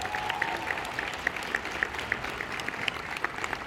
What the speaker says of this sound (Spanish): les pido un fuerte aplauso para Fernando y todo su equipo